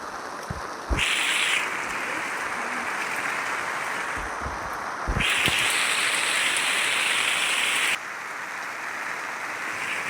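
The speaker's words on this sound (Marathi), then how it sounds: "एवढा पाऊस चालू आहे" Heavy monsoon rain pours steadily over a village home, a dense continuous hiss that swells louder in bursts and then eases, with a few low knocks and thumps and no talking.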